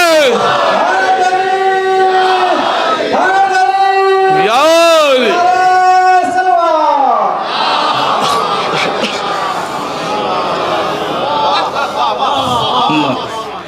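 At a religious gathering marking a birth anniversary, a crowd chants a slogan in loud, sustained, rising call-and-response shouts close by, then the voices trail off into scattered crowd noise and chatter.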